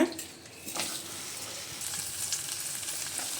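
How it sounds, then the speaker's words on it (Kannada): Cinnamon, cloves, cumin, green chilli and onion frying in oil, a soft steady sizzle with a couple of stirring scrapes, fairly quiet, no talk. "ಚಕ್ಕೆ, ಲವಂಗ, ಹಾಗೆ ಜೀರಿಗೆ, ಹಸಿಮೆಣ್ಸಿನ್ಕಾಯಿ, ಈರುಳ್ಳಿ ಎಲ್ಲವನ್ನು ಹಾಕಿ ಫ್ರೈ ಮಾಡ್ಕೊಬಿಡೋಣ."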